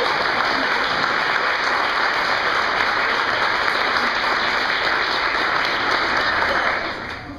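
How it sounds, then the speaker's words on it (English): An audience at a wine-drinking evening event gives a big round of applause. The loud, sustained clapping from a sizeable crowd runs steadily for several seconds, then tapers off at the end. "So let's give her a big round of applause."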